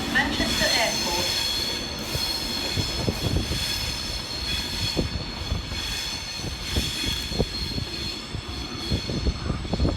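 A three-coach Northern train at Penkridge station, with wheels squealing and a steady rail rumble, close and moderately loud, as faint station sounds mix in.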